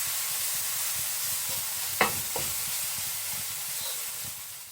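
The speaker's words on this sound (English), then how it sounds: "So stir it around." A salmon fish curry sizzling and hissing steadily in a pan, with a brief scrape of a spoon stirring midway, no voices.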